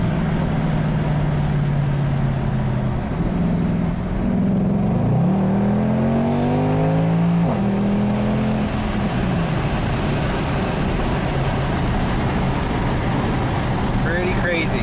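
A Mercedes-AMG engine roars loudly and continuously through a burnout, its pitch climbing and dropping as the revs surge midway, with a constant dense rush of tyre and engine noise throughout.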